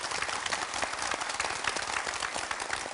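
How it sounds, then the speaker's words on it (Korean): Audience applause at a memorial broadcast marking ten years since a scholar's death, a steady moderately quiet wash of many hands clapping with no speech over it. "선생님에게 다시 한번 큰 박수를 부탁드리겠습니다"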